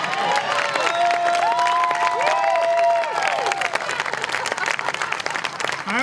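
Loud audience applause at a Newt Gingrich presidential campaign speech, with whoops and cheering voices rising over the clapping before the sound thins out into scattered claps near the end.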